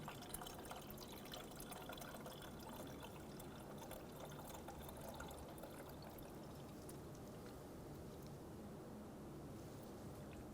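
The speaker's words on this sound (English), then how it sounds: "You can fill the reservoir with new coolant to the max fill line." New coolant pours into the coolant reservoir of a 2012-2020 Chevrolet Sonic with the 1.8L four-cylinder, a steady faint gurgling stream that continues without a break and with no talking.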